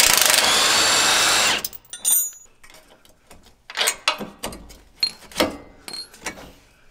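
A short burst from an impact gun on an 18 mm socket loosens the lower shock mounts of a Jeep JL Wrangler during a 2-inch lift install. It is followed by uneven clanks and ratcheting clicks of hand tools on metal, with no talking.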